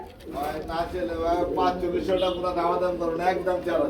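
Pigeons cooing at a crowded pigeon market, with throaty overlapping coos close by and a continuous bustle of sound behind them.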